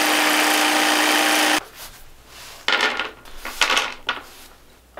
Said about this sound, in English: I just clamped the jigsaw down